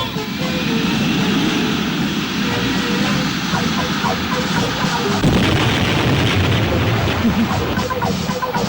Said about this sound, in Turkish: Avcı uçakları alçak uçuş!